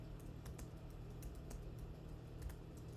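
Fingers type on a computer keyboard, a fast, uneven run of light clicks and taps close to the microphone over a low steady hum.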